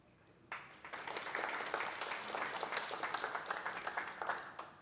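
Sustained applause from a crowd at a police graduation ceremony starts abruptly and continues steadily, many hands clapping at once with no talking over it.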